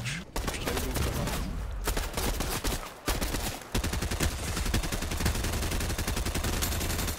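Gunfire in Fortnite, dense rapid bursts of shots rattling almost nonstop at close range with brief pauses, loud throughout.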